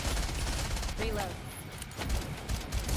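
Sustained gunfire fills a fast-paced video game battle, a dense continuous fusillade of rapid shots layered with game effects and a short burst of voice chatter under the noise.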